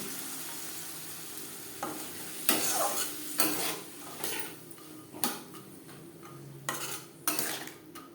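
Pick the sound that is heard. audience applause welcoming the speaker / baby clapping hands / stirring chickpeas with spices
stirring chickpeas with spices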